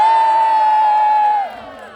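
An audience at a live stunt show cheers loudly with a sustained whoop over broad crowd noise, then the roar drops away sharply after about a second and a half and lingers faintly.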